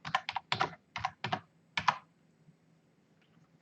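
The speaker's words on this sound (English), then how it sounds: "I'll just quickly hit the tab button on the keyboard" Keys on a computer keyboard tapped in a brisk irregular run of about eight sharp, close clicks, then a pause before one last click, with no voices.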